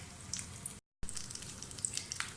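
Potato cutlets fry in oil in a pan with a steady close sizzle and scattered crackles, briefly cut to silence partway through, with no talk.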